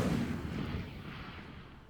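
Incendio fire spell cast in Hogwarts Legacy, a heavy burst of fiery blast that fades out over about two seconds, loud and close with no talking.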